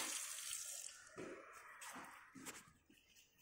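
Water poured onto coarse salt in a chemistry lab, a faint trickling and splashing that comes and goes in short bursts against a quiet room.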